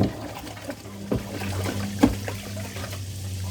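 Water running and pouring into a pot holding ham, a steady liquid trickle with a few brief clinks and a low hum underneath, close by and moderately loud.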